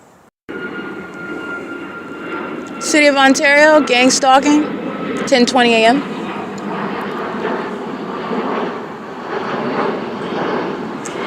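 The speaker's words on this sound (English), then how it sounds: "hovering planes that are creating this amplified plane engine noise, which is amplified noise" A propeller plane's engine drones overhead in the City of Ontario, a steady loud hum that continues throughout. Someone talks over it for most of the stretch.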